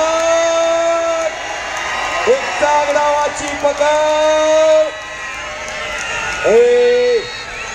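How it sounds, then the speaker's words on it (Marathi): A crowd at a traditional kushti wrestling match, Maharashtra Kesari against Haryana Kesari, shouts and whoops in a steady loud roar beneath an amplified announcer speaking over a PA. "ओरडू नका, ओरडू नका."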